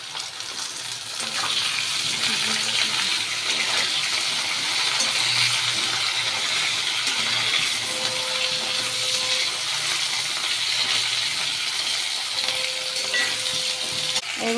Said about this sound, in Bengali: এবার আমি এই তেলে দিয়ে দেবো আলু প্রথমে।